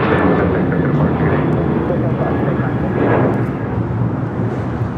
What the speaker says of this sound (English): This is United Airlines 447 taking off to San Francisco on a 737-900 ER